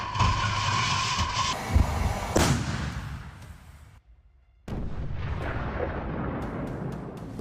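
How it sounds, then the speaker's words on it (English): Russian artillery shelling Ukrainian positions: heavy booming blasts and rumbling detonations, loud and continuous at first, a brief near-silent gap, then more sustained rumbling with sharp distant cracks. "Russian artillery starts shelling Ukrainian positions."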